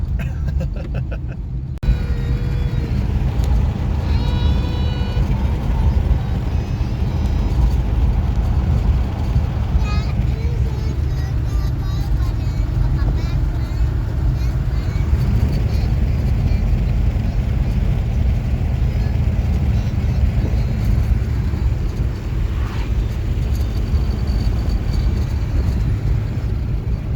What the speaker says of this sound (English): We got a new engine now. Now it starts. Yep. Now we get to go cruise.